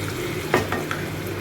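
Mutton being stirred in a pan for mutton kosha, with a few soft scraping strokes of a spoon against the metal over a low steady background, no voices.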